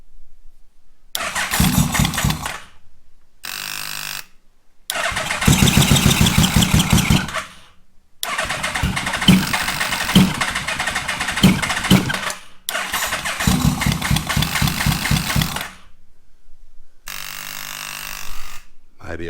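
Yamaha Vmax motorcycle engine cranking repeatedly in loud bursts separated by short pauses, sputtering and catching briefly before dying, apparently flooded, with people talking between attempts.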